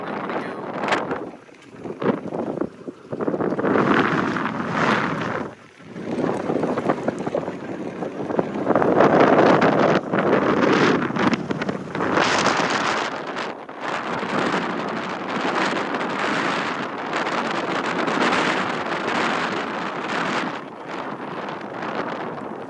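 Shallow Sport X3 boat powered by a Yamaha 250 SHO outboard runs on shallow water, a continuous engine drone buried in heavy wind buffeting with surging, gusty swells of noise throughout.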